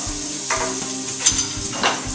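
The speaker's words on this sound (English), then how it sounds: "Wooden spoon. Give it a stir." A wooden spoon stirs a sizzling pan with bay leaf in it: a continuous close, loud frying hiss with three or four rhythmic scraping strokes of the spoon across the pan.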